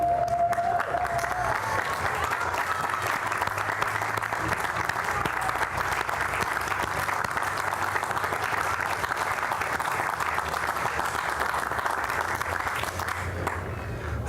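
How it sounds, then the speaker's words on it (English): A standing commencement audience at Albright College applauds steadily for about fourteen seconds, a dense, sustained wash of clapping with faint crowd murmur, fading slightly at the very end. "give your supporters a round of applause"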